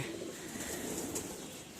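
Caged pigeons, a red Madras hen and a Fulshira, give low continuous cooing close by, a steady murmur with faint chirps above it and no voices.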